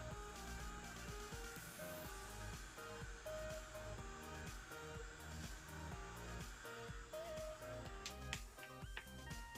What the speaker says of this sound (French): c'est un heat gun silencieux. Donc, je vais chauffer donc mon petit chipboard en bois.